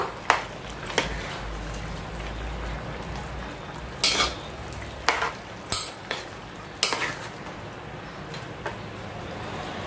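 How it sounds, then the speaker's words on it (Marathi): A spoon scrapes and clanks against a pot of dry village-style chicken masala on a lowered gas flame, several sharp metallic knocks over a steady soft simmer. "पुन्हा एकदा व्यवस्थित मिक्स करून घेऊया हे सर्व"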